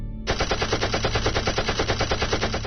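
A continuous burst of rapid machine-gun fire from a fighter plane, loud, close and evenly rattling after a short lead-in, with a steady low rumble beneath.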